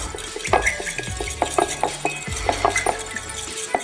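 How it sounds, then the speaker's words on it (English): A spoon stirs salt into pickling liquid in a container, meant for quick-pickling red and white onions, giving a steady run of close metallic clinks and scrapes against the sides throughout. "Just gonna put our salt and give it a mix to dissolve."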